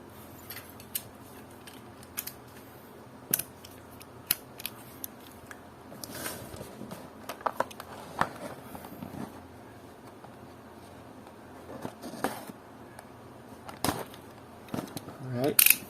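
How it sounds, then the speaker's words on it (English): Unboxing a Lego City 60312 set: scattered crinkles, snips and clicks of packaging being opened and handled close up, sparse and irregular with quiet gaps between. "We unbox this one."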